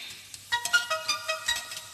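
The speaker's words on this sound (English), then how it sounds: "That's my phone." A phone ringtone plays a quick run of bright melodic notes, moderately loud and close, heard alone in a home kitchen.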